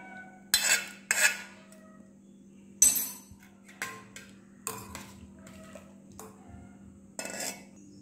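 Cooked china grass (agar agar) being stirred into milk in a metal pot, with a spoon clinking and scraping against the sides in irregular taps over a steady low hum.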